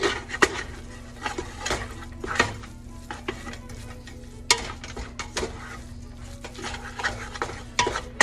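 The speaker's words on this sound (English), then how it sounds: "give that a good stir" Paprika and caraway seeds being stirred into sauerkraut soup in a pot, with repeated scraping and clinking strokes of a utensil against the pot over a soft background sizzle.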